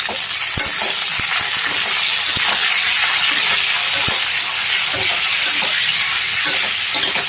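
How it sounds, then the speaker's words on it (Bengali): Bengali-style chilli chicken fries in a pan over a high flame, with a loud, steady sizzle and hiss and scattered clacks from stirring throughout. "হাই ফ্লেমে ফ্রাই করে নেব।"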